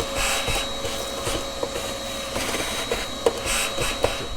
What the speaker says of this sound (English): Only thing you need is vacuum cleaner with a hose.